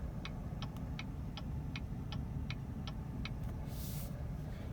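Turn signal in a 2018 Chevrolet Tahoe LT clicks in a steady, even tick-tock, about nine ticks over a low constant cabin hum with no talk.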